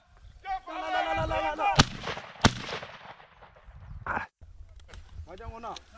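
Shotgun blasts from bird hunting for francolins in Senegal: two sharp, loud cracks fired a moment apart outdoors, with people talking and calling before and after.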